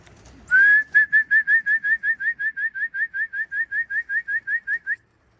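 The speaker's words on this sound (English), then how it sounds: "A lot of birds in the sky here" A bird calls overhead during an old-bird pigeon race, giving about twenty short rising whistled notes in a steady, even rhythm. The notes are clear and close and stand alone against a quiet background.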